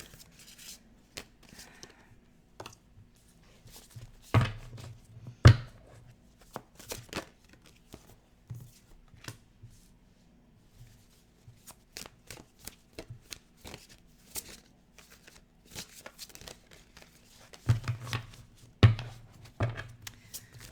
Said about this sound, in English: I also like to shuffle on camera, so it takes me a little longer to get these cards out